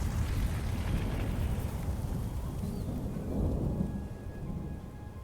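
Rolling thunder with steady rain in the video game Oblivion: Shivering Isles, a loud, dense low rumble that swells and fades over a continuous wash of rainfall, with no voices.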